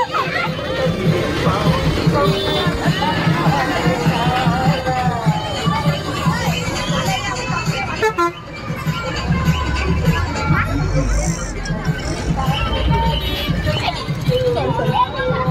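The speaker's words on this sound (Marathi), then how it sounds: "खूप गर्दी आहे, कारण की 5 दिवसाचे विसर्जन होत आहेत।" Dense crowd noise at a five-day Ganesh idol immersion procession, with continuous chatter and babble from many people close by and occasional laughter, steady throughout.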